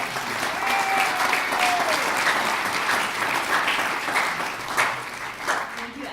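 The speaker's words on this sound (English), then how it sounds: "Great, let's have a last round of applause." Audience applause fills a room at a youth entrepreneurship investor panel, a steady, dense wash of clapping that holds at a constant level for the whole stretch, with a few louder bursts near the end.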